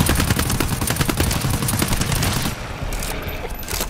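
Assault rifle fire in GTFO, a rapid sustained burst of loud close shots that keeps hammering for about two and a half seconds, then cuts to a quieter tail.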